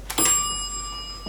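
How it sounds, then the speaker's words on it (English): An elevator bell in a relay-controlled 1987 Dover Impulse traction elevator strikes once with a bright metallic ding, then rings on in a long, shimmering decay, close by, with a soft knock at the end. "See if I can ring that bell."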